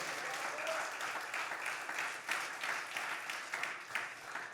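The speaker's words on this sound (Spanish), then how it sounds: "Denle un aplauso fuerte al Señor" A church congregation applauds during a Spanish-language service, with steady, diffuse clapping that sounds somewhat distant and fills the room for several seconds alongside faint voices.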